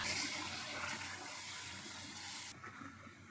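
Water streams steadily into a cooking pot for mutton yakhni pulao, a continuous splashing rush that cuts off near the end.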